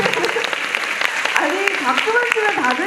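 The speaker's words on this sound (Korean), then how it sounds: "박수만 치면 다 되는 줄 알아?" A concert audience claps steadily at a mini concert, the applause continuing under a voice speaking loudly over the crowd.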